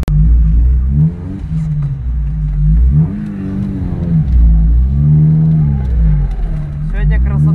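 Drift car driven by Max Sedykh revving hard during a winter drift battle on the Krasnoe Koltso track, engine note rising and falling in repeated surges, loud and close throughout with speech occasionally over it.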